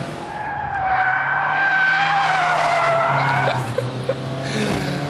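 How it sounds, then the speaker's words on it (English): A Vauxhall VX220 sports car slides into oversteer on a track, its tyres squealing loudly in a long sustained skid over the engine note, ending with a few bumps as the slide settles. "when you really push this Vauxhall, there's a little bit too much understeer turning in, which will inevitably snap into oversteer on the way out"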